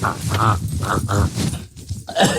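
A voice imitates the exhaust of a V12 car engine, producing loud, rough, revving bursts in a rhythmic pattern, close to the microphone.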